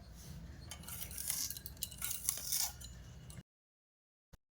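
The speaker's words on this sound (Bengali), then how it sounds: "এই আমলকিগুলো আমি ছোট ছোট করে কেটে নেবো এরকম করে" A knife cuts Indian gooseberries (amla) into small pieces for an oil pickle, giving close, soft knocking and clinking taps for about three seconds, followed by silence and one brief final tap.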